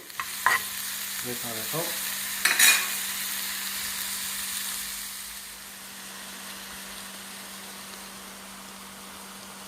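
Onion frying and being stirred in a pan, a soft steady sizzle with a few scraping stirs early on, fading to a quieter hiss toward the end; a brief word is spoken near the start.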